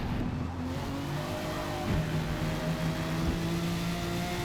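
A Jaguar XJR-15 race car on sport tires in a racing game revs under throttle, its engine tone climbing steadily in pitch with a brief shift-like dip partway through, loud and close without talk.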